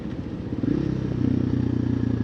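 A 2024 KTM EXC-F 500 TPI with an FMF muffler lugs in sixth gear at low speed, its single-cylinder engine giving a rapid, close, steady thudding pulse.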